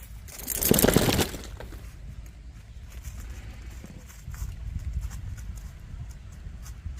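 Gaited horses walking a trail near camp with rental horses close by, soft uneven hoof clops on dirt under a brief loud rustle of wind or handling, outdoors and fairly near.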